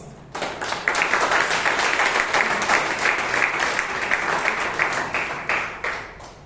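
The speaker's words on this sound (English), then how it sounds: "Applause." Audience at a Bangalore Toastmasters meeting breaks into applause, a sudden onset of dense, steady clapping from a full room that holds at an even level before tapering slightly at the close.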